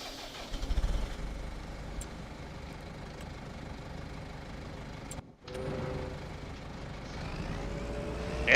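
A tractor engine in the game Farming Simulator 25 cranks and catches with a few rising pulses, then settles into a steady low idle, cuts out briefly and resumes running.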